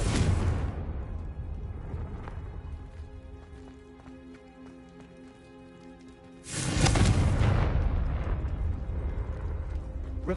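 Confringo fire-blast spell from Hogwarts Legacy: a loud burst at the start fading into a ringing tail, then a second heavy fiery blast around the middle that roars on to the end.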